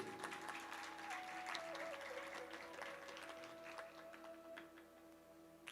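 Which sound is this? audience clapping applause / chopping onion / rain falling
audience clapping applause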